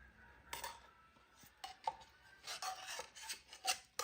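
Spoon scraping condensed milk out of an opened tin into a jug, a run of short rasping scrapes of metal on metal, close and fairly quiet, with brief pauses between strokes.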